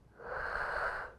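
A person vocally imitates a child's normal breathing, without snoring or wheezing, exaggerated for clarity: one loud, breathy airflow that swells and fades over about a second, close and alone.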